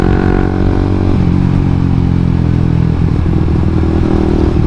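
Suzuki GSX-R150 150 cc motorcycle engine running loudly and continuously up close, with a dense, steady mechanical drone and clatter and no speech.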